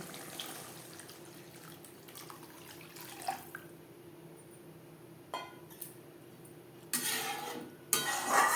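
Water running and splashing into a pan of spice masala fried on a stove for a fish curry, faint trickling with a few clinks and louder pouring bursts near the end, no talking.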